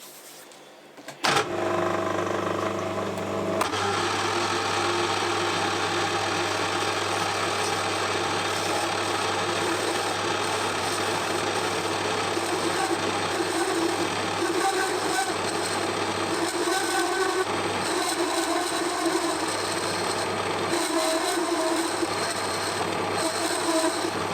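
A metal lathe cutting a taper on a machinist's scriber in a workshop, with a steady loud whirring hum and a continuous machining drone that starts abruptly after a brief quiet moment and runs on evenly, without talk.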